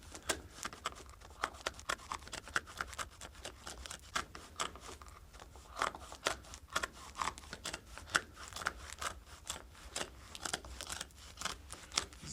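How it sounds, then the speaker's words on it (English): Scissors cutting through the fringe of an area rug, a rapid run of crisp close snips in an uneven rhythm, steady throughout with no talk. "We're just going ahead and cutting through, following the line and the shape of the rug as well."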